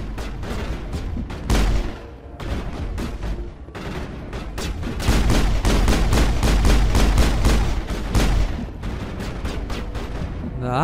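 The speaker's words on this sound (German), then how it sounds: "Das war die Pistole." Loud, dense video-game gunfire from Mass Effect: rapid, sharp pistol shots crack in quick succession, almost without pause, over a booming combat background.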